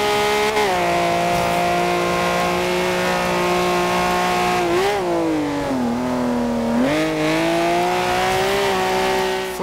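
A car at full throttle in the racing game Forza Horizon 2, its engine holding a loud sustained roar that dips and climbs slightly with gear and speed changes, continuous throughout with no talk.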